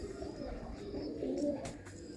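Pigeons, including golden ones kept by a pigeon fancier, coo softly in low throaty murmurs, faint and close, with a brief sharper sound near the end.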